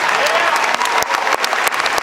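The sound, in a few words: debate audience applause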